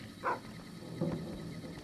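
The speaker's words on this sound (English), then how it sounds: "I hear a dog barking." A dog in the Fallout: New Vegas game world gives two short barks about a second apart, moderately distant and muffled over a low background hum.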